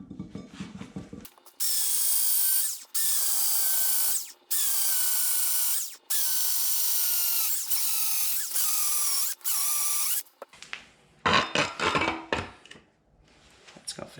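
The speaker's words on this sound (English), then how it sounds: "I'm gonna mark 4 holes, and I'm gonna drill these out in the wood so this can sit down flush." Power drill boring holes into wood during a Suzuki Samurai wheel bearing job, several loud whining bursts of a few seconds each separated by short pauses, followed by clattering handling noises.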